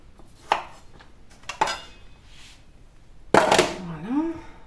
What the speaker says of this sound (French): Donc les gros bouts là comme ça, je vais juste les couper en deux.